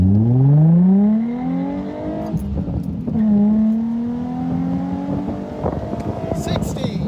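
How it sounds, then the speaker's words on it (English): Nissan 350Z sports car accelerating hard from a launch, engine note climbing steeply, dipping at a gear change and rising again, heard from inside with a voice speaking over it. "So I'll try my best to roll out here nice and slow, let off the gas. Straighten up and go!"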